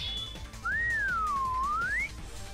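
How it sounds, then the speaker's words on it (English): A person whistles a signal in one clear, sustained note that rises, dips and climbs again over about a second and a half, alone against a quiet background. "I whistle the signal to my companions"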